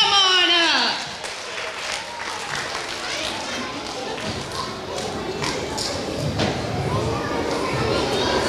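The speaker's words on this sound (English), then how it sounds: "Let's give a round of applause to Mrs. Wortley and her student." Audience applause for Mrs. Wortley and her student rises after a brief opening and becomes a dense, sustained wash of clapping with crowd noise that continues steadily to the end.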